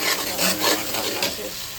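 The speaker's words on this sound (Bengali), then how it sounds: "আর এখানে হচ্ছে মাছের জন্য মশলা কষাচ্ছি।" Spices for fish being stir-fried in a pan, a steady close sizzle with scraping stirring strokes running throughout, fairly loud and alone.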